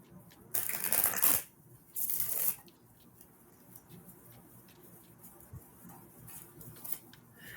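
Two short bursts of card shuffling, a riffle and then another, followed by quiet handling noises and faint rustles.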